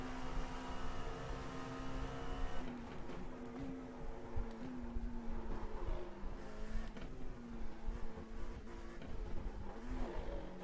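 Dallara LMP2 race car in the iRacing sim, engine droning steadily with pitch rising and falling through shifts and corners, loud and continuous with no talking.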